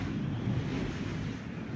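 Steady wind roaring against a house in the Bahamas after Hurricane Dorian, with water being driven through the wall beside a poorly sealed window; a continuous low, rumbling gust noise, close and unbroken.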